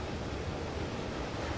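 Rushing water courses through a sewer in the game Limbo, a steady, dense wash with a low rumbling undertone that holds at an even level throughout with no breaks.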